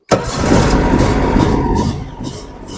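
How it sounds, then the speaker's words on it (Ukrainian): A Husqvarna TC220T garden tractor engine cranks and catches, then settles into a steady, loud idle, with the rumble easing slightly toward the end. "Даємо трошки газульку і починаємо заводити наш трактор."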